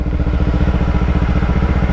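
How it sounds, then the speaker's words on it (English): A Kawasaki Ninja 300 motorcycle with an aftermarket exhaust runs close and loud, its twin-cylinder engine giving a fast, even, throbbing pulse with a raspy edge throughout. "I don't like the sound of the exhaust, but maybe it's just because it's a 300."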